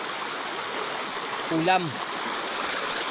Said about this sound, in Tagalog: dito po tayo ngayon sa ilog